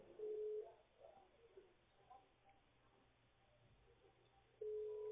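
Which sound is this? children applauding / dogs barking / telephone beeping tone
telephone beeping tone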